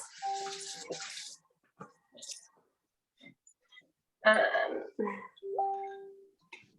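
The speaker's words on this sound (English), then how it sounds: "I'm just going to wash my hands." A kitchen tap runs in bursts as hands are washed, with splashing water coming and going between quieter gaps, light clicks and handling sounds, fairly close.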